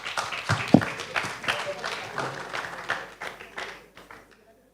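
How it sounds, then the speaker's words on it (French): Audience applause at a French digital-inclusion conference, Numérique En Commun(s): scattered claps that start fairly full, thin out and fade to silence over a few seconds, with a few voices mixed in. "on va pouvoir vous remercier, monsieur Aude-Marie Sainte, sous vos applaudissements"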